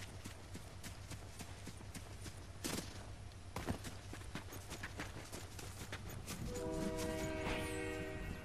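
A train in the Fortnite video game rumbles past with steady clattering on the rails, then its horn sounds in sustained tones toward the end. Quiet overall, with no talk.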